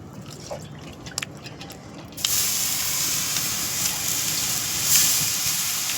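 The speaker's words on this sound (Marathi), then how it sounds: "डोस्याला असंच पाणी टाकतात." Water is poured onto a dosa on a hot pan: a few soft drips, then a sudden loud, sustained steam hiss and sizzle that flares up briefly near the end.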